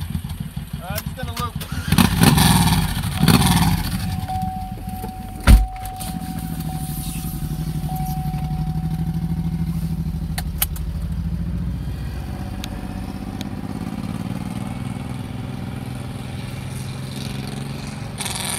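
Suzuki Boulevard M109R motorcycle engine revving up then settling into a steady idle rumble, close by, with a sharp clunk partway through.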